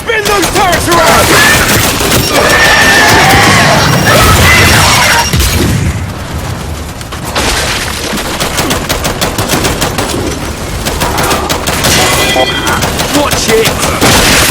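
Turrets fire in the shooter game Gears 5, with loud, rapid machine-gun bursts hammering almost nonstop alongside booms and crashes, one short lull midway, and voices shouting over the din.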